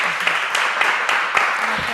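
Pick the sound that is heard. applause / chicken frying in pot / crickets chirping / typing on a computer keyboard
applause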